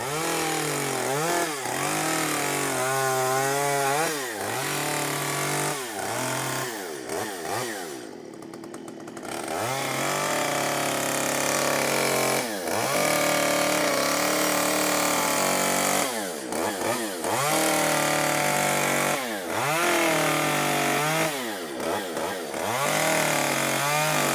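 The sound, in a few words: chainsaw sawing wood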